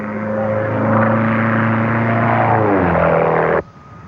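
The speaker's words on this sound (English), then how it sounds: "Thou shalt not fly thy plane close to the ground." Propeller airplane passing low overhead, a loud steady engine drone with a falling pitch as it goes by before cutting off abruptly near the end.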